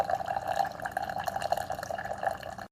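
Cappuccino streams from a Walmart Mainstays single-serve dual brew coffee maker through a K-Cup capsule, a steady close trickling and dripping of liquid into a cup with no talk.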